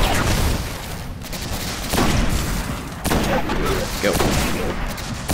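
Repeated gunfire in the shooter game Destiny comes in loud bursts at a steady pace, each one cutting in sharply over constant game noise, while a voice speaks briefly.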